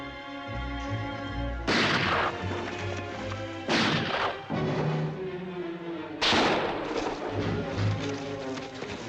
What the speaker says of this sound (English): Let's hope they're not close enough to hear those shots